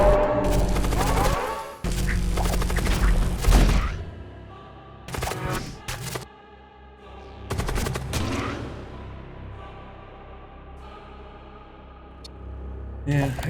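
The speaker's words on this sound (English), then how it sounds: "Fire the Inferno Beam." Inferno Beam weapon fires in the space combat game Void War, a loud sustained blast of crackling bursts at the start, then scattered sharp impacts and booms fading into lower rumbling, with voices talking over parts of it.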